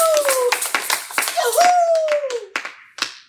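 A church congregation claps loudly and continuously, a dense burst of applause with cheering voices and a preacher speaking over it, easing off near the end with a few last claps.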